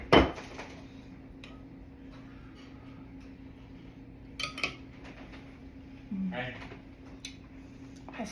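Spoons clink and scrape against bowls of cheeseburger potato soup, a few sharp taps at the start and scattered soft scrapes later over a low steady hum, with brief talking.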